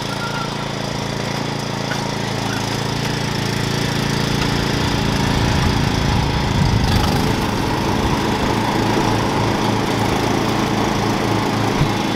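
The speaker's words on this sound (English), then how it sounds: "You excited to be on the lawnmower?" A ride-on lawnmower runs steadily during backyard lawn cleanup, a loud continuous engine drone with a rough, rattling texture that holds at an even level throughout.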